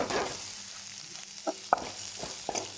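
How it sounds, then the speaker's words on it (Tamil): Large onions sautéing in a pan, a soft continuous sizzle broken by a few sharp stirring clinks and scrapes near the end. "நல்லா வதங்கின பிறகு பெரிய வெங்காயம் ஒரு கைப்பிடி அளவு சேர்த்து நல்லா வதக்கிங்க"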